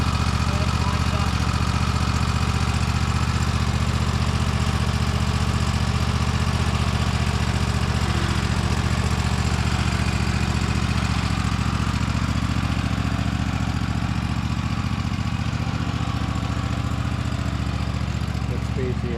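A 2023 Toro TimeCutter 60-inch zero-turn mower with a Kohler engine idles at low throttle, a steady, loud, close mechanical drone that holds unchanged throughout.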